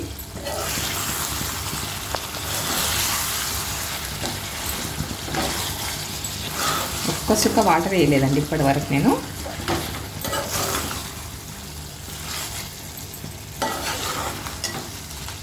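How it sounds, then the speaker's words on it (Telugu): Chicken fries in a pan, cooked without added water, giving a steady close crackling sizzle with stirring and scraping throughout, while a person talks over it. "పది నిమిషాలు అయింది చూడండి చక్కగా ఫ్రై అవుతుంది"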